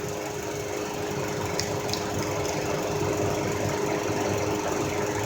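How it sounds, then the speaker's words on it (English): Misfiring engine of a 2016 Jeep Renegade, a continuous uneven mechanical drone with vibration and faint squeal, steady and close, with no talk. "I know the engine is misfiring"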